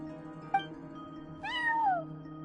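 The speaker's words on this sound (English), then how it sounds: "cat watching over the front desk. Excuse... meow?" A single drawn-out cat meow from a cat in the Genshin Impact video game, rising then sliding downward, heard clearly over a steady low musical drone and soft background ambience.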